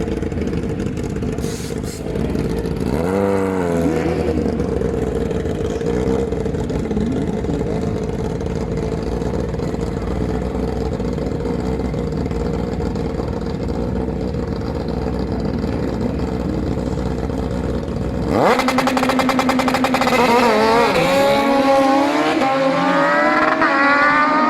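A drag racing motorcycle on full nitrous at Santa Pod runs through a long, steady roar with a brief rev near the start, then bursts louder with rising gear-change sweeps toward the end.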